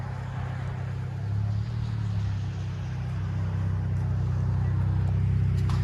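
A Dodge Challenger 3.6L V6 fitted with a Vibrant aftermarket exhaust gives a smooth, deep rumble that builds slightly in loudness as it revs, heard close and steady with faint talking.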